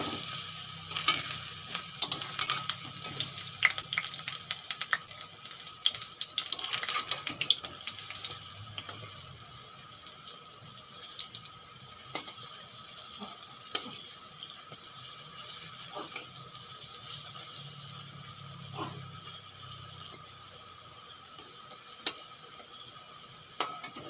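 Chana dal and soybean fritters fry in a pan with a long, even hiss of hot oil, joined by occasional clicks and light scrapes, and no speech.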